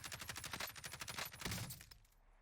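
Rapid automatic gunfire in the Call of Duty Warzone video game, a dense burst of close, loud shots rattling steadily for about two seconds before cutting off into quiet.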